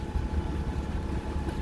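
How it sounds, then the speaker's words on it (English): A Catalina 42 sailboat motors out under its engine, giving a steady low rumble with water wash around the hull, continuous and fairly close, with no talking. "We're kind of motoring out a little bit."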